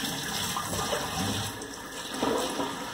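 Water running from a tap while catfish is washed in a kitchen: a continuous splashing, hissing stream with small surges, fairly close, with no voices.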